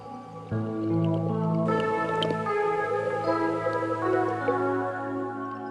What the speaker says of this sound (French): des bulles d'air s'échappent bien du fond